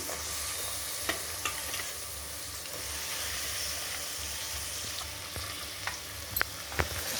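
Fried onions with dobba (pulses) are stirred in a pan for a dobba karjam curry, giving a steady broad sizzle with scattered soft scraping clicks and a few sharper taps near the end, close and fairly quiet with no talk.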